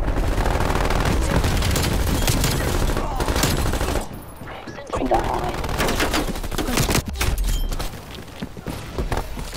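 Automatic sentry turrets firing during a Call of Duty: Black Ops Cold War multiplayer hardpoint match, sustained rapid gunfire bursts with booms, loud and dense, briefly dropping off mid-clip before resuming, with voices mixed in.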